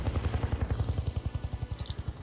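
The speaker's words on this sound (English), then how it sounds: "Well, it's a lot of helicopter." Helicopter in the video game Just Cause 2, a loud close rotor thumping in a fast, even rhythm with faint higher whine on top, heard alone.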